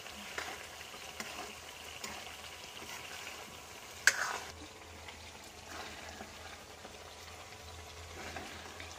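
Fresh turmeric sabzi cooking in a kadai, a continuous close sizzle and bubbling with soft stirring scrapes and one sharper clink of the spoon near the middle, steady throughout without speech.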